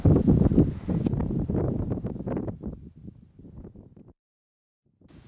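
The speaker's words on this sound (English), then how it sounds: "It's cold and windy." Cold wind blowing on a high snowy mountain ridge of Illimani in Bolivia, a loud rushing gust buffeting the microphone, easing off and dropping to near silence before resuming briefly.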